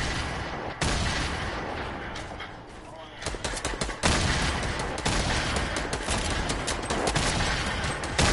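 Dense rapid gunfire and bursts from a PS4 shooter game crackle continuously, loud and close, with a heavier launcher-like boom in the mix and brief quieter gaps.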